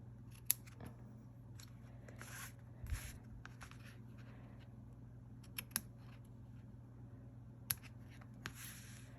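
Scissors trim paper for a handmade fun-fold card, giving faint, scattered snips and small crisp clicks against a quiet low hum.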